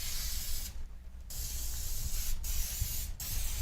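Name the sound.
pan baking spray sprayed onto springform pan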